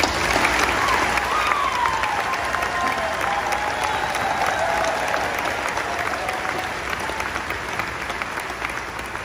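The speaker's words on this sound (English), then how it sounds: "This applause is much deserved." Sustained applause from a crowd at a 2021 high school graduation ceremony, a dense steady wash of clapping that fades slightly toward the end, with faint cheering.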